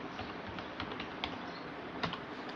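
Java code is typed on a computer keyboard, quiet, irregular clicking keystrokes heard close and alone without talk.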